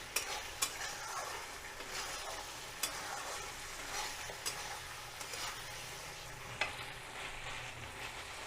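Fried okra sizzles in a pan over a high flame, with a spoon scraping and clinking against the pan at intervals as it is stirred, close and fairly quiet.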